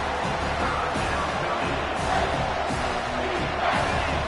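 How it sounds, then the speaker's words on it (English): A home stadium crowd at a Miami football game, a loud, continuous roar of cheering and shouting on third down, with a commentator's voice faintly under it. "Here comes this home crowd as the defense tries to get off the field on 3rd down."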